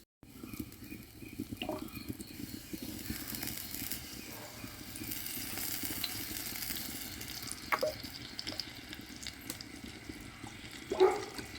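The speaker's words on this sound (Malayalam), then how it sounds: "ഇനി ഇതിലേക്ക് നമുക്ക് കുറച്ച് വെളിച്ചെണ്ണ ഒഴിച്ചു കൊടുക്കണം" Coconut oil pours into a pan already holding coconut, with a steady watery trickle and light sizzle running throughout, a few brief clinks and a louder bump near the end.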